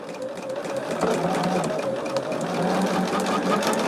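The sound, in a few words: sewing machine stitching fabric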